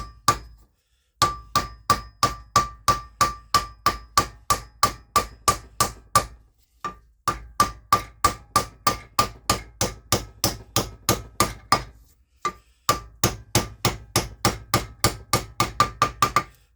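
Repeated sharp hammer taps seating an inlet manifold on a Classic Mini SPI, struck in quick regular bursts with brief pauses between runs, loud and close with no talking.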